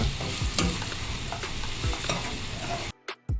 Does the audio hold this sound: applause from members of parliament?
no